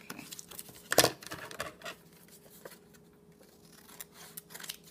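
A sharp snip of scissors cutting paper, followed by softer rustling and small handling sounds in a quiet room.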